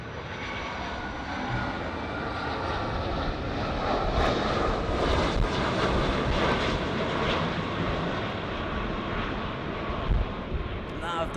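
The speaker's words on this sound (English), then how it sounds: "757 coming in from Honolulu. A 757 300," Boeing 757-300 with RB211 engines coming in to land at LAX from Honolulu, a steady broad roaring whine of jet engines with some wind noise and a voice talking over it.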